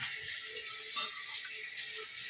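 Water splashes and trickles as a piece of PVC pipe is dipped into cold water, a steady, soft wash of sound heard up close with no voices.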